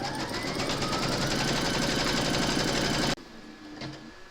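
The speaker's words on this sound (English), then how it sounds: "Load your file for the coaster into your machine along with your neutral thread, and then you're going to stitch round number 1" Embroidery machine stitching the placement outline for a four leaf clover coaster in neutral thread, a steady fast mechanical rattle running loud and unbroken for about three seconds, then stopping abruptly into near quiet.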